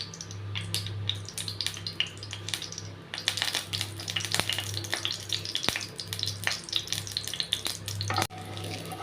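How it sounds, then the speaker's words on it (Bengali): Heated oil in a kadai sizzles steadily while a utensil stirs it, with frequent sharp metallic scrapes and taps against the pan, close and continuous with no talk. "কড়াইটা হালকা গরম করে ওতে আমরা তেল দিয়ে দিয়েছি। এবার তেলটা হালকা করে নেড়ে নিচ্ছি।"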